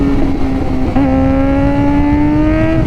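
A Suzuki GSX-R 600 sport motorcycle engine holds a steady high-pitched whine, with a brief dip and rise around a gear change, loud and close throughout.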